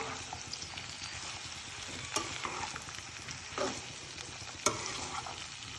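Mixed vegetables with peas fry and sizzle steadily in a pan, with a few sharper scraping stirs of a spoon standing out over the constant hiss; no one talks.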